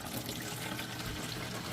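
Tap water runs steadily into a small houseplant pitcher, a continuous hissing splash that stays even and close for the whole stretch, with no voices.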